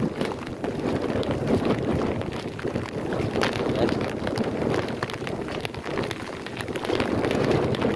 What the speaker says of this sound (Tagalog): Malakas yung hangin, malakas pa yung ulan.